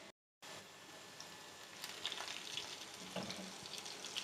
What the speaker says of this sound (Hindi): अब हम साथ ही में ज़ीरा, कड़ी पत्ते और कुटी लाल मिर्च ये शामिल कर देंगे।